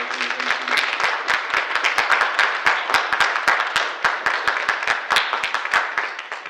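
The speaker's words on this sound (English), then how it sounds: "So another kind of round of applause." An audience at a university drama festival applauds, steady dense clapping from many hands, loud and close, continuing evenly throughout.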